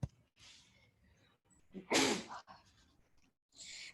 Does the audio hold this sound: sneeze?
yes